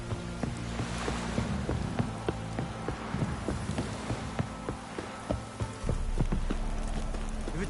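Rain pattering steadily on surfaces in The Witcher 3 game world, a soft continuous hiss with scattered drops and occasional hoof-like clops, moderately loud and with no voices.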